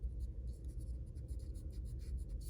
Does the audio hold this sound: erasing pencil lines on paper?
yes